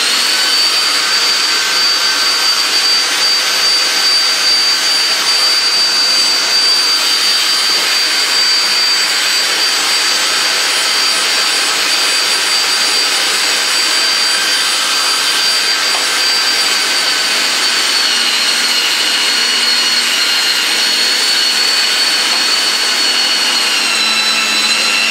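Electric meat grinder mincing beef for steak haché, a loud steady whining motor drone running continuously and close by with no talking.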